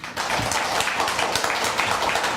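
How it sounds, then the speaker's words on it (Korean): A church congregation at a Korean Sunday service applauds to welcome a pastor, with many hands clapping in a continuous, even, moderately close roar. "우리 박수로 환영할까요?"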